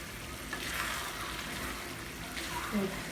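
Bolognese sauce being stirred in a pan, a steady soft sizzle and wet scraping with a couple of faint utensil knocks, low and continuous throughout.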